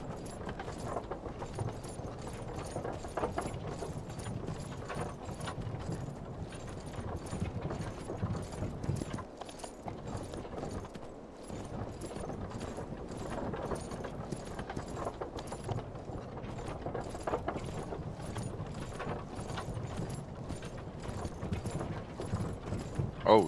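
Video game horse hooves clop in a steady, quick rhythm throughout, fairly close, with faint clanking and occasional background noise mixed in.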